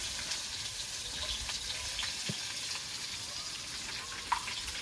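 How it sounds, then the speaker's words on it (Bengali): Boiled potatoes fry in hot oil in a pan, a steady close hiss and crackle of sizzling throughout, with a few small pops and faint clinks. "তেলটা গরম হয়ে গেছে এবার সেদ্ধ করে রাখা আলুটা দিয়ে দেবো"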